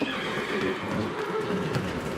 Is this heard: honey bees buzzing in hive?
no